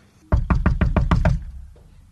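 Six quick, heavy knocks on a wooden door in a fast even run, close and loud, followed by a faint trailing tap.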